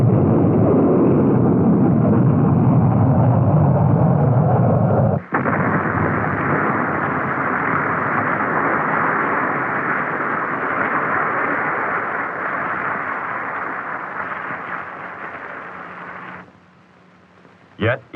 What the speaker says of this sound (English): This early flight ended with an explosion that was visible for miles.